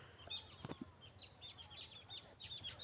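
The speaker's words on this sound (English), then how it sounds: "Can you feel the birds chirping?" Birds chirp steadily in a garden with young apple trees, a busy mix of small high calls over a constant outdoor background hum, fairly distant and continuous.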